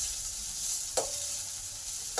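Onions and grated ginger sizzle steadily in a hot pan, a continuous hissing fry with two brief clinks of a utensil against the pan, no voices.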